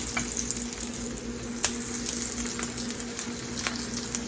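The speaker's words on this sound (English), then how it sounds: "take our rolls, seal side down, and just put them in the skillet, seal side down," Cheesesteak rolls laid seam side down in a skillet fry with a low, even sizzle, with occasional light clicks and taps of handling, close by and without any talking.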